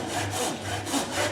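A hand saw cuts through wood for a tee halving joint, steady back-and-forth rasping strokes in a close, even rhythm with no talking.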